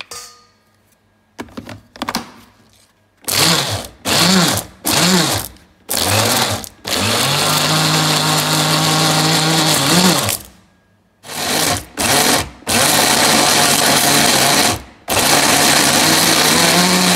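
A blender grinds beef for meatballs in loud whirring bursts, starting and stopping repeatedly with short pauses between pulses and a long steady run in the middle.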